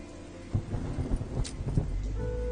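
Low rumbling thunder rolls beneath a steady wash of heavy rain, with dull thumps and a brief sharper crack midway.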